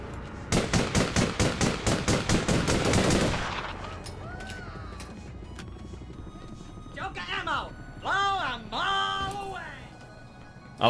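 Rapid bursts of gunfire ring out in a space-themed video game, a fast rhythmic volley for several seconds, followed by electronic whirs and chirping game effects with a voice talking over them.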